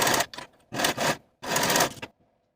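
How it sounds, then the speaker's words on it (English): A sewing machine stitching the side seams of a tee shirt, three short whirring runs of rapid needle stitching separated by brief pauses, close and clear with no talk. "I'm going to sew it with a 5/8 inch seam allowance"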